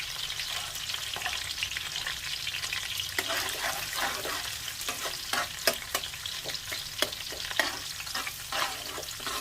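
Chopped garlic sizzles in a hot pan, a steady quiet frying hiss with scraping stir strokes and spatula clicks every second or so, close and without talk.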